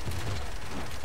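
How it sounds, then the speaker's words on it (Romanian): Fireworks going off in the video game Paladins, a dense, continuous crackle of overlapping bursts with a heavy low rumble, loud and steady for about a second. "Da, uite artificii."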